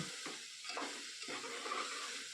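Raw rice and spices being fried together in a pot for khichuri, a soft continuous sizzle with a few stirring scrapes, faint and close, no voices.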